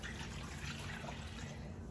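Warm water running steadily from a tap for bread baking, a continuous even hiss and splash at moderate level, no talking.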